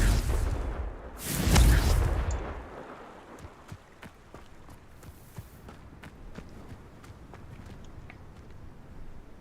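A Confringo spell explosion in the Hogwarts Legacy video game, one loud booming blast that swells and fades over about a second, then a quieter stretch of scattered footsteps and small impacts.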